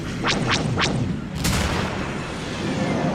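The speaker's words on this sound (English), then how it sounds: "Nice shooting, Luke." Sci-fi space battle blaster fire from a Star Wars audio drama: three quick zapping shots, then a louder blast, over a dense rumbling engine and battle roar.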